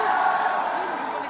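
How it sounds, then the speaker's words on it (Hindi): A rally crowd at a large political gathering in Patna's Gandhi Maidan clapping and cheering, a brief loud burst of massed crowd noise with voices mixed in. "एक बार जोरदार तालियां"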